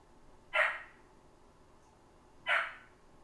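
A dog named Karn gives two short, sharp barks about two seconds apart, fairly faint and somewhat distant against a quiet background.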